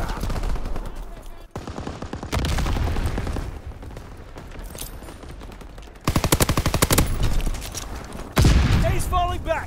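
Bursts of rapid automatic gunfire in Call of Duty: WWII, loud rattling volleys that start and stop in several stretches, some heavier booms, with shouted voices in between.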